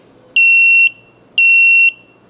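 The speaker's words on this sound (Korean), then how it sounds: "삐삐 소리로 알려주었잖아요" Two loud, shrill electronic warning beeps from a 54V cordless chainsaw, each about half a second long, spaced a second apart against near silence.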